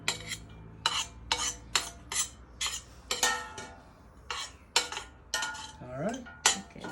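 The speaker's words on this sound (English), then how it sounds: "So you stir it through." Utensil scraping and clinking against a bowl while a dinner mixture is stirred through in a home kitchen, a series of distinct close strokes in a steady rhythm with no talk over them.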